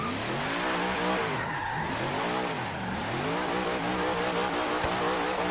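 A 1956 Ford F100 in Forza Horizon 3 spins its tires, the engine revving in rising and falling sweeps with a continuous squealing, skidding tone throughout; no voices.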